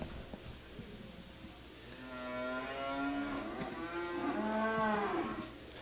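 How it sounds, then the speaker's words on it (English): Cattle at a calf and stocker livestock auction moo in a long, loud, drawn-out call rising and falling over several seconds, close by against a low background hum of the sale barn. "There's a male cattle off of Midwest City."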